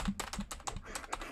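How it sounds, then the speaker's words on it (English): Loud, clattering computer keyboard typing struck hard with long nails, a rapid irregular burst of sharp keystrokes close up. "You're assaulting the poor keyboard."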